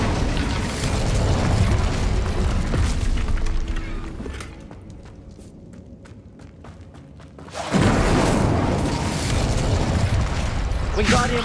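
Casting the Incendio fire spell in Hogwarts Legacy gives a loud fiery burst and roar that fades to a quiet lull, then a second blast erupts and stays loud through the end, with game voices over it.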